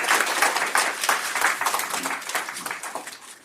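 A church congregation at a special dawn prayer service claps after a group photo, a lively round of overlapping handclaps that swells and dips before fading slightly.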